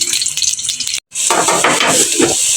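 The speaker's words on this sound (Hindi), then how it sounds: "प्याज को मैं थोड़ी देर भून लूंगी।" Onions sizzle and fry in a pan for a Hindi-style potato and capsicum dry sabzi, a steady close hiss with stirring scrapes, briefly cut to silence midway before the sizzle returns louder.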